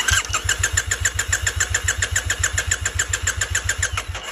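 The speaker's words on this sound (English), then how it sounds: "we'll give it a crank and we'll see what we see" A Triumph Bonneville T100 motorcycle engine cranks over on the starter without firing, a steady rapid churning rhythm of even pulses, close and loud, with no voices.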